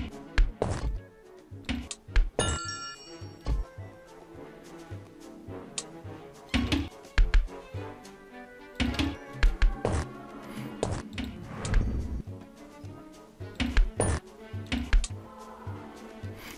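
Ball shooting in the puzzle game Sparkle 2, where a quick run of thunks, clicks and chimes fires one after another in steady bursts over a continuous bed of game music.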